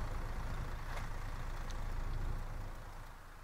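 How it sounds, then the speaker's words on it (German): A bus in the simulator OMSI 2 rumbles nearby, a low, steady engine drone with a faint hiss on top, fading slightly toward the end, with no talk. "Ich höre einen Bus."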